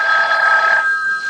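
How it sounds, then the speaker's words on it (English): A telephone bell rings in a radio drama, one steady electric ring held for about a second before fading, clear and close with no voices over it. "when I wasn't even thinking about the phone, it rang."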